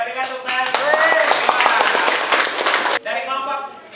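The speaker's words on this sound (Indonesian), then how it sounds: "Ya, berikan tepuk tangan." Students in an Indonesian classroom give a presenting group a round of clapping, a loud, brisk burst of hands lasting about two and a half seconds amid voices, then ending abruptly as talk resumes.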